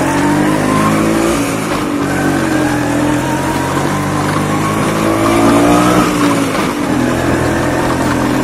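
A 20-year-old LML Vespa geared scooter is ridden at steady speed, its small engine droning loud and close with slight rises in pitch over continuous wind and road noise.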